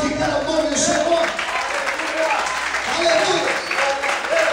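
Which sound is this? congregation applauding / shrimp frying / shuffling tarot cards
congregation applauding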